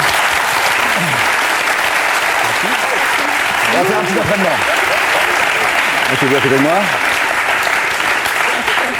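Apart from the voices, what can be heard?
audience applause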